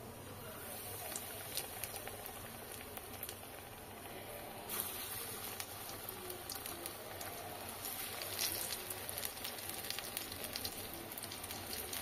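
Pumpkin flower fritters (kumro phool bora) sizzle and crackle steadily in hot oil, a dense, even frying hiss that runs throughout with no talking.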